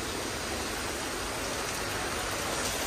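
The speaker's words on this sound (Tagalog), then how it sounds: "Grabe gid siya. Ulan gid kayo." Heavy rain pours down steadily in a dense, unbroken broadband hiss that stays loud and even throughout, with no voices over it.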